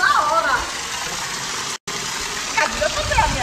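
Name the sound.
waterfall rushing water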